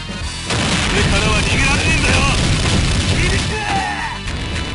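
An explosion from Kyo Kusanagi's super move in The King of Fighters 2002, a loud booming blast with crackling debris that sustains for several seconds, layered with game voice effects.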